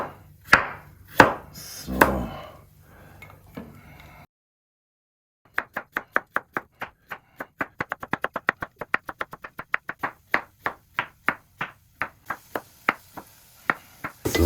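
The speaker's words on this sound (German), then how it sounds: "Radieschen. Schneiden wir in ganz feine Scheibchen." A knife slices radishes into very fine slices on a cutting board, giving a fast, steady series of crisp, close taps that speeds up after a pause, with a brief word spoken at the start.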